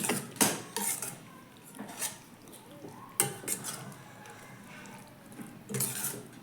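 Onions mixed in a metal cooking pot, with a spoon clanking and scraping against the sides in irregular bursts and quieter pauses between strokes.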